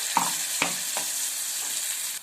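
Sliced onions with a ground green chili, garlic and cumin paste fry in hot oil, giving a steady loud sizzle broken by a few sharp stirring scrapes, with no voices.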